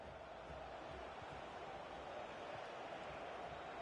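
Stadium crowd in EA Sports FC 25 football match, a steady faint roar of massed fans with no distinct cheers, continuous and distant-sounding throughout.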